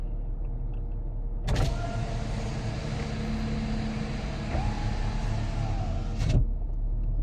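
Emzoom R Style car with an opened muffler idles at a steady, even rumble, with a louder blip of revs at the start and again near the end, close by and with no talk.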